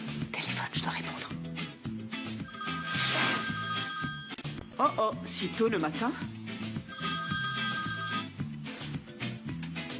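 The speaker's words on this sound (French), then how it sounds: "Téléphone, je dois répondre." A telephone rings in a home scene, its repeated electronic bell tones sounding in bursts over steady background music while a person speaks briefly.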